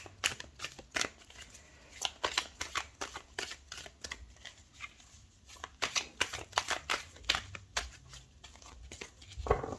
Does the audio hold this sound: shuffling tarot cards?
yes